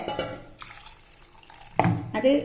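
Water is poured into chickpeas for a kerala-style curry, with short splashing bursts and a little clatter near the start and again toward the end.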